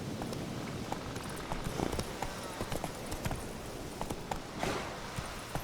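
Geralt's horse Roach galloping in The Witcher 3: Wild Hunt: a steady, fast clip-clop of hooves running close by throughout, over a wash of ambient outdoor game noise.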